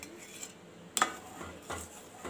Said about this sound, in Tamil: இந்த ஸ்டேஜில் நம்ம அடுப்பை சிம்மில் வச்சு இப்படி கலக்கி விட்டுக்கிட்டே இருக்கணும்.